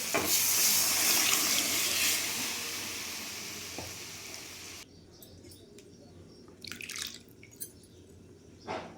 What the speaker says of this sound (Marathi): आता आपण डाळ टाकून घेऊ